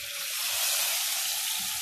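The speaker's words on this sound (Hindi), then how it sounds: "अब हम इसमें तड़का लगाएंगे।" Loud, steady sizzling of spices and chilies tempering in hot oil, a dense crackling hiss close by with no talking.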